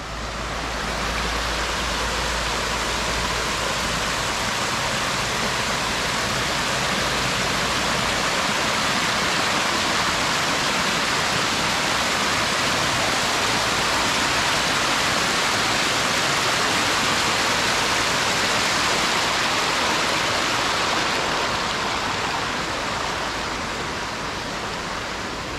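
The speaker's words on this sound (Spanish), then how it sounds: "uno no se baña con el agua que está estancada, sino que va fluyendo y sigue su curso" Stream water rushes at the El Manantial bathing spot in El Paraíso along the route to El Estor, Izabal, a steady, loud, broadband wash that holds constant throughout with no voices.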